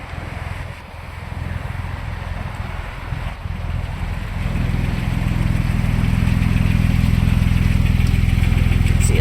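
A Porsche 911 996 Turbo engine runs steadily, a low continuous rumble that grows louder and fuller about halfway through, heard alone with no talk.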